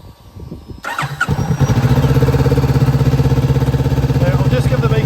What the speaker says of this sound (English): Let me get the bike started up for you and you can hear how she sounds.